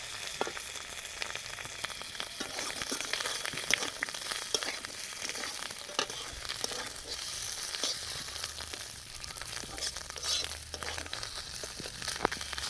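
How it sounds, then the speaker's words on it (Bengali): Fish roe and chopped tomato frying in a pan give a steady, fairly quiet crackling sizzle throughout, with occasional light stirring scrapes and clicks. "ভালো করে নেড়ে নেড়ে আমি ভেজে নেব"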